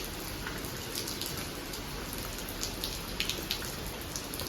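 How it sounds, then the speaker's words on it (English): Steady rain falls at a farm, a dense even patter of drops on surfaces with scattered louder splats, continuous until it cuts off abruptly at the end. "And it's raining. Wow. But it's always beautiful to watch rains from here."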